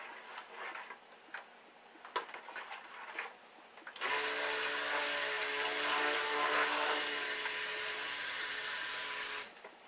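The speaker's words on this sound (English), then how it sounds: "You can actually use this mixer and you can put it into false trace by mixing it continuously" A few light taps of stirring come first, then an electric mixer starts up with a steady, loud whirring whine as it blends lemongrass oatmeal soap batter for about six seconds before cutting off.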